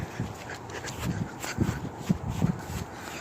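A dog makes short, soft yips and whimpers mixed with panting, close by in a few irregular bursts.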